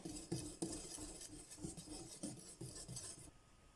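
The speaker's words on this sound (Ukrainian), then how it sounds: "Перемішуємо все вінчиком." A whisk stirs sifted flour, baking powder and cocoa powder in a bowl, giving a steady run of quick, close scraping and tapping strokes.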